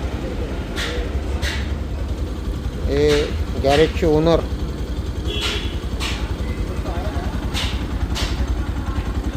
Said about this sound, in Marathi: आता आपण ही गाडी स्टार्ट करून ठेवलेली